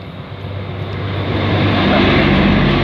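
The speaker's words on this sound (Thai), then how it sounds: "เครื่องบินมา" A fixed-wing airplane flies overhead, a broad droning roar that swells steadily louder over a few seconds, heard alone without talk.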